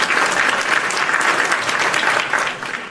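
Hand claps sound effect played during a podcast, a dense, steady burst of clapping like applause that fills the whole stretch at full loudness with no talking.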